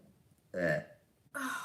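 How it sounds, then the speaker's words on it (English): A burp during a live makeup session, two short throaty bursts close to the mic in a quiet room, the first deeper and longer, the second briefer. "I cannot be burping on live"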